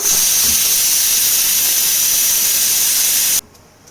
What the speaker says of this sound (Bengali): এটা দুটো সিটি পড়ুক